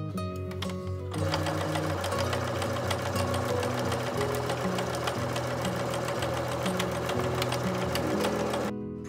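A sewing machine stitches a 1 cm seam around a quilted bag pocket, its motor starting after about a second and then running in one steady, continuous drone with a fast mechanical pulse until just before the end, with no talking.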